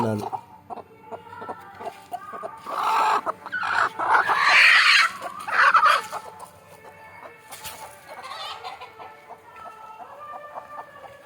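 Two chickens cluck and cackle close by in a burst that builds toward the middle and then settles into quieter, intermittent clucks, with a voice heard briefly at times.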